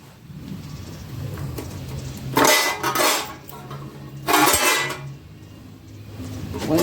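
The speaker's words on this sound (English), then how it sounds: "Taking the oil pump off now." An oil pump being removed from a Small Block Chevy 350 engine, with two loud bursts of metallic clanking and scraping standing out over quieter rustling handling noise, no talking.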